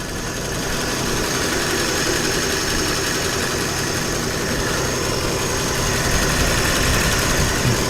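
A Ford V8 Pilot engine idles steadily while warming up, giving a constant, dense mechanical rumble with faint knocking vibration and no pauses or voices.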